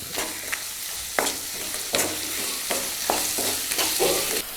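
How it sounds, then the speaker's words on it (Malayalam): Onions and cashews sautéing in a hot pan, with a continuous sizzle broken by regular scraping strokes of a spoon as the mixture is stirred, close and loud, with no talking. "ഇനി നല്ലപോലെ ഒന്ന് ഇളക്കി യോജിപ്പിച്ച് വഴറ്റിയെടുക്കാം."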